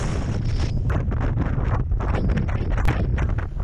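Strong wind buffeting the microphone on a snowy Scottish mountain summit in the Torridon range, a loud steady rumbling roar with gusty surges throughout.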